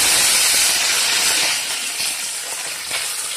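Cumin seeds splutter in hot oil in a pan, giving a loud, dense sizzling hiss with scattered small pops and crackles that eases off slightly partway through.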